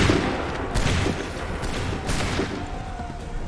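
A musket volley rings out in the video game Assassin's Creed Rogue, several overlapping shots and booms within a continuous battle din, steady and moderately loud with no clear speech.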